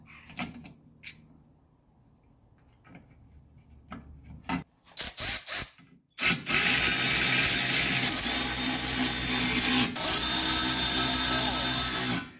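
A ratchet on suspension bolts of a 1983 Mercedes 300CD: after a few scattered clicks and knocks, a loud continuous ratcheting whir runs for about six seconds, close to the microphone.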